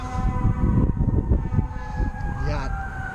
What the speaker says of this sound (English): Got sirens going. I'm sure y'all can hear it.